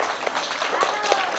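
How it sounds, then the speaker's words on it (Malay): Audience at a religious lecture claps for a participant, a dense, steady patter of many hands filling the moment at moderate loudness. "Okey, bagi satu tepukan dekat dia."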